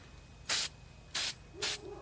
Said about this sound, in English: And then you just want to lightly spray.